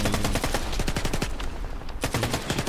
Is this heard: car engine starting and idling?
no